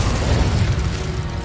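Incendio fire spell cast in Hogwarts Legacy, a loud, dense, low-heavy whooshing burst that holds steady for about a second and a half with no voices over it.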